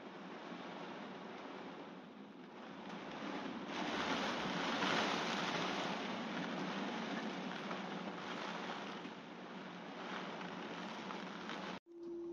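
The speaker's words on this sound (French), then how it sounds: "Donc là on a un petit vent qui se lève tout doux, il pleuviote de temps en temps." A light wind rises around a sailboat at anchor, with a steady broad rush of wind and water that swells slightly in the middle, then cuts off abruptly near the end.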